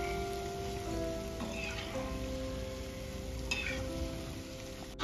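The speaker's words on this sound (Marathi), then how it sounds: "इथे आपल्याला लो टू मीडियम फ्लेमवर आलटून पलटून गुलगुले तळून घ्यायचे आहे" Banana fritters (gulgule) deep-frying in oil over a low to medium flame, a soft continuous bubbling sizzle with a couple of faint scrapes, steady and fairly quiet throughout.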